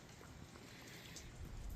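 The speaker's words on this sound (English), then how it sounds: "And it's still raining." Steady rain falls in a soft, even hiss with a faint patter of drops, fairly quiet and constant throughout.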